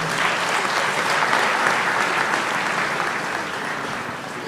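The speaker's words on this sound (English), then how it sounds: "A round of applause to our graduates now." Large audience applauding graduates at a polytechnic graduation ceremony in a stadium, a broad, sustained roar of many hands clapping that fades slightly toward the end.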